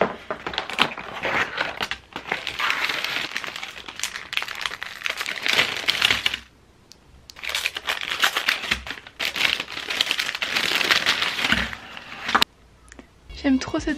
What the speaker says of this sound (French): Je vous ai filmé le unboxing.